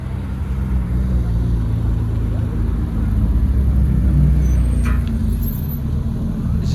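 Powerful sports cars, including a BMW M2, roll in at a car gathering on Mont Ventoux, a steady deep engine rumble close by with a faint rise in revving.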